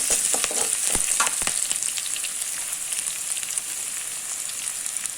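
Pigeon meat fries in a pan, a bright continuous sizzle with a few sharp crackles and stirring knocks early on, then settling into an even hiss, no talking.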